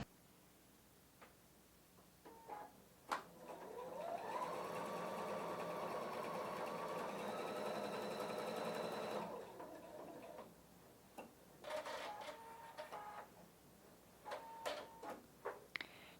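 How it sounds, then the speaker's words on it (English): A Husqvarna Viking Brilliance 75Q sewing machine stitches out an eyelet, a steady close whirring hum for about five seconds, followed by short mechanical clicks and whirs as it trims and finishes. "let's get you nice and close so you can see how this eyelet stitches out"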